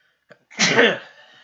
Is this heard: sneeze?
yes